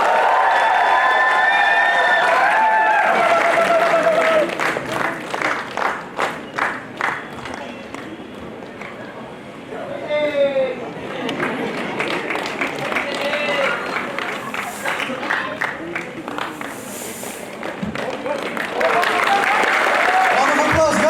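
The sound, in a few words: audience applause for Mr. and Miss PNTMD 2024 winners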